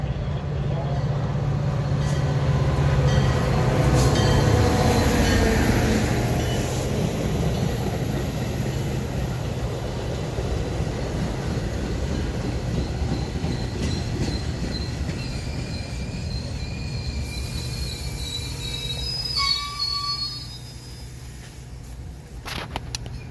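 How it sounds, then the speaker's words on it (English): A BNSF commuter train bound for Aurora rolls into a station with a loud, continuous rumble of wheels and cars, slowing as it arrives, then brief high wheel squeals and faint tones near the end, with no talk. "PNSF train number 1233 to Aurora is now arriving"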